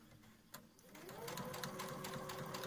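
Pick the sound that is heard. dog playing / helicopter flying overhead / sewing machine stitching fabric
sewing machine stitching fabric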